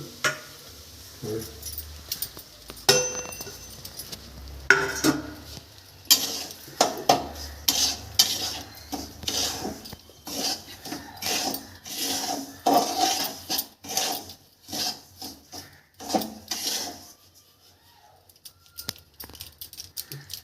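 Semolina (suji) roasting in oil in a pan for masala upma, stirred with a spoon in steady scraping, clinking strokes close by, with a faint sizzle beneath.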